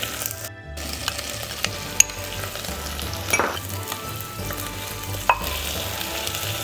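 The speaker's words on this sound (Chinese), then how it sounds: "先把香料炒香，然后呢，我们加入郫县豆瓣酱" Spices and Pixian chili bean paste stir-frying in a wok give a steady close sizzle, with occasional scraping stirs and light clinks of the spatula, and no voices.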